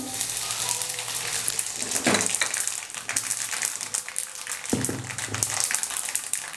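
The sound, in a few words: sesame seeds frying in oil with fried chillies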